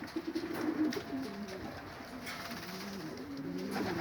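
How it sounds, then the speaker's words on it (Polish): Pigeons coo softly in a new aviary, a few repeated rolling calls close by against quiet background. "O, tutaj gołąbki w nowej wolierze."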